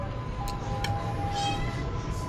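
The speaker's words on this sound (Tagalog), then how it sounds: "Parang may pusa." A cat meows twice, short and fairly close, amid the steady chatter and bustle of Baguio night market, with a thin tone running beneath.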